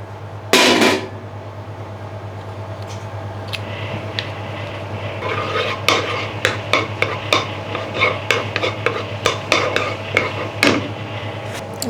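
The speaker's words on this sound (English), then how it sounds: "We put the butter, 1 tablespoon of butter in the wok." Utensil clinks and light metallic scrapes ring out against a wok on a gas stove at medium heat, with a steady low hum underneath, as a tablespoon of butter heats for a Thai kebab sauce. Repeated sharp taps cluster near the end.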